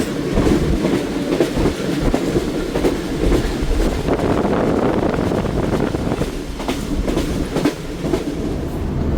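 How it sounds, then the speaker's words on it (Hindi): The Tezgam passenger train runs along the railway track with a loud, steady rumble and rhythmic clickety-clack of wheels over rail joints, heard up close throughout with no talking. "और 8 डाउन तेज़ गाम भी चीचा वतनी अप्रोच कर रही है।"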